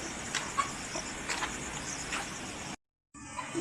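Chickens cluck softly in a close, busy cluster while eating mash feed, a few sharper clucks rising above a steady rustling bed, then a brief cut to silence before the noise resumes.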